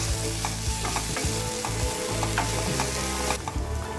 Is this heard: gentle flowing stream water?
no